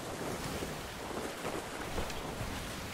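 Strong wind at sea in the pirate game Sea of Thieves: a steady, loud roar of wind mixed with rushing water and surf around a sailing ship, constant and unbroken for the whole stretch, no voices.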